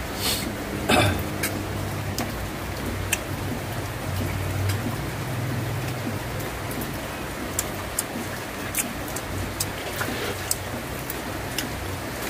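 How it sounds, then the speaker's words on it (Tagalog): Heavy rain pours nonstop in a dense, even hiss with scattered sharp drips and taps close by. A brief throat-clearing sound comes near the start. "Grabe ang ulan, walang tigil."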